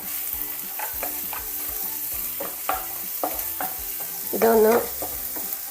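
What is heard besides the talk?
ginger and garlic sautéing in a pan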